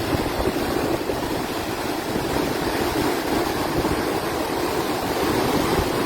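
Floodwater overflowing La Mesa Dam roars as a strong current, a dense, continuous rushing wash that stays loud and even throughout, with no voices.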